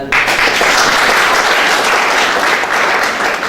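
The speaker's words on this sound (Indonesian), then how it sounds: "Tepuk tangan dulu" A seminar audience on the Gospel and Batak custom breaks into applause, a loud, full burst of many people clapping that rises quickly and holds steady throughout.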